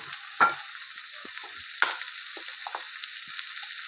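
Drumstick (moringa) pieces sautéing with salt, turmeric, coriander powder and home spices in a pan: a steady soft sizzle with a couple of sharp scrapes and light stirring knocks, close and fairly quiet, no talking.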